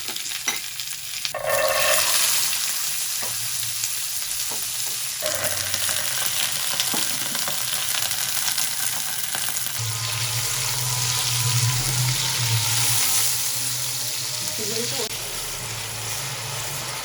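Round-cut vegetable slices for sabzi pulao frying in hot oil make a loud, continuous sizzle with stirring scrapes throughout, and water noise comes and goes in the background.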